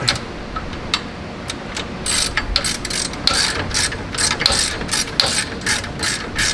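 A ratchet tightens K-member bolts on a racecar, with a rapid series of close, crisp clicking strokes that grow denser and louder partway through.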